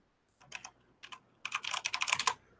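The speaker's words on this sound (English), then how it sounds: "Let's go into YouTube and just, like, type in Black Bond." Typing on a computer keyboard, close and clear: a short burst of keystrokes, a pause, another brief burst, then a faster run of rapid clicks.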